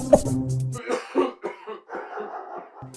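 A single cough rings out at the start, followed by muffled, indistinct voices talking at a moderate distance.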